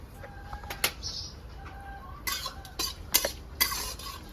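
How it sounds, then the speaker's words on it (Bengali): Whole spices frying and being stirred in a pan: bay leaf, cinnamon, cardamom and cumin seeds. Several close metallic scrapes and clinks of a spoon against the pan over a light sizzle. "মশলাটাকে ভালো করে ভেজে নেবো"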